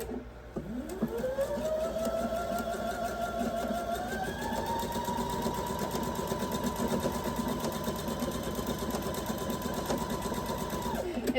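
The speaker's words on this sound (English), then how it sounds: "I just started sewing" A sewing machine stitches yellow gingham fabric for a quilt row. After a quick start its motor winds up to a steady, rapid whirring hum, close and even, and runs without a break for about ten seconds, with no talking.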